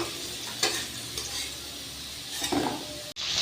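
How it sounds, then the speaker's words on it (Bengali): A duck egg fries in oil after potatoes, giving a low sizzle with a few spatula scrapes and clinks near the pan over a few seconds. "ডিমটা লাল লাল করে ভাজা হয়ে গেছে"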